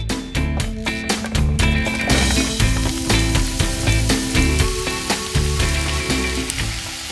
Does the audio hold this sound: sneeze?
no